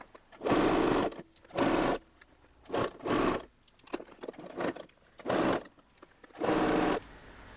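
A sewing machine stitches baby romper fabric in a series of short, quiet whirring bursts separated by brief pauses, close by and alone.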